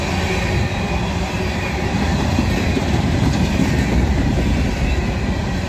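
A CSX-hauled coal train rumbles steadily past at close range in Abbeville, a continuous heavy rolling roar with faint clattering of wheels, no voices.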